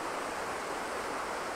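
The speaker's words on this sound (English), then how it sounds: "Also a rather fetching waterfall." Waterfall on Crystal Creek in a North Queensland rainforest near an old stone arch bridge, heard as a steady, broad rushing hiss of falling water, moderately close and continuous with no voices.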